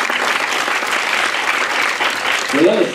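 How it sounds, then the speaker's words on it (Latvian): An audience at a youth policy forum panel discussion gives a steady burst of applause, moderately loud and continuous, with a voice briefly heard over the clapping. "Aplausi, ja?"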